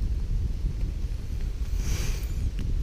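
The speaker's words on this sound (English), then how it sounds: "It's still pretty damn windy." Wind gusts across a rainy campsite sheltered by a tarp, a steady, close rumbling roar buffeting the microphone with no voices.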